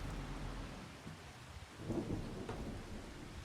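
Steady rain hisses throughout, with a low rumble of thunder swelling near the middle before fading back into the downpour, in the video game Farming Simulator 25.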